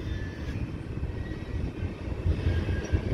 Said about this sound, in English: This could be a pretty long train.